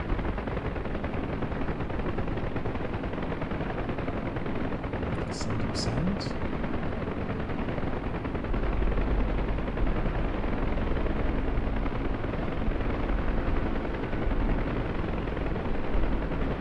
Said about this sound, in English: so throttle slowly full open. So slowly, oh, careful with the temperature. Slowly gonna get the RPM up here.